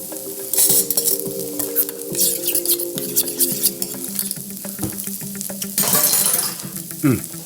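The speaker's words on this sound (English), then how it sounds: "By this time, tuna should be fairly charred on the other side." Tuna searing on a teppanyaki griddle: a steady close sizzle with metal spatula scrapes and clinks against the hot plate, and brief louder bursts of frying as the food is stirred.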